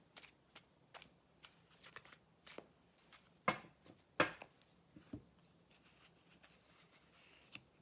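Cards riffle and tap in a quiet series of short clicks and snaps, with a few sharper flicks midway.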